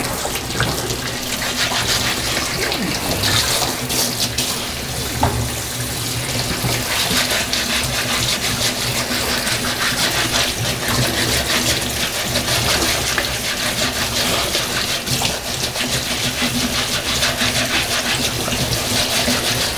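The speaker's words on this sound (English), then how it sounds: "I've got scalding hot water going here" Scalding hot water runs steadily from a tap in a continuous, close rushing stream, with faint clinks and scrubbing underneath, no talking.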